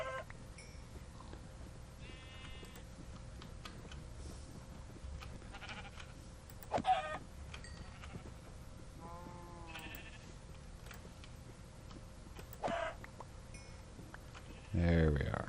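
Sheep bleat in the survival video game Beyond the Void 2, several short wavering calls scattered over a quiet background, with someone talking throughout.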